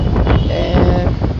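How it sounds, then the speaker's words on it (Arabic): Loud wind in Alexandria rumbles and buffets against the microphone for a brief moment, a dense low roar with no break. "اعتقد واضح في الفيديو الصوت، يعني هوا صوت الهوا"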